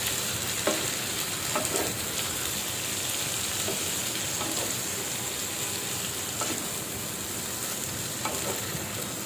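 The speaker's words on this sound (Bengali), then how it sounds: "একসাথেই দুটাকে আমি কষাবো যাতে করে মশলাটা ভালো মতো ঢুকে।" Beef liver and chopped potatoes fry in spices in a pan with a constant loud sizzle, while a spoon scrapes and stirs them with a few scattered knocks.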